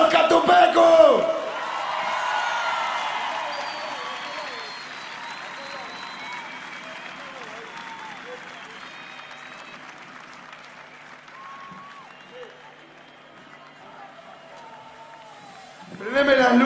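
A large rock festival crowd at Quilmes Rock 2022 applauds and cheers loudly for Catupecu Machu, the clapping swelling early then settling into sustained applause with whoops, rising again sharply at the end.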